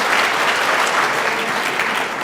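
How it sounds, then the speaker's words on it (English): Steady, dense applause fills a university bioengineering graduation celebration, a large audience clapping continuously at even loudness throughout. "we call for applause again"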